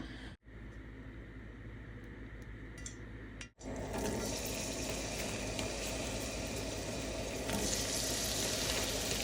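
Onions with salt frying in oil in a pan: after a couple of brief quiet gaps, a loud, steady, close sizzle sets in and continues unbroken.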